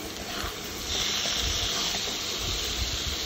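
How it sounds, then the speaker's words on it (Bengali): Boiled elephant foot yam stems dropped into a spice masala and frying, a soft, steady hiss and sizzle that swells slightly after the first second and continues quietly alone. "সেদ্ধ করে রাখা ওলের সেই গাছগুলোকে কিন্তু আমি এবার এই মশলার ভিতরে দিয়ে দিলাম"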